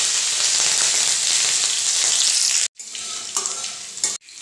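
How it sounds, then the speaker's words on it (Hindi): Green chillies frying in hot oil with nigella and carom seeds, a loud continuous crackling sizzle that cuts off abruptly, returns with softer sizzling and a few stirring clatters, then stops again. "हरी मिर्च को भी हल्का सा मैंने फ्राई कर लिया है।"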